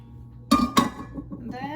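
A knife cuts a piece of broccoli in half on a plate, giving two sharp, close clinks half a second apart. Softer rustling and faint voiced sounds follow.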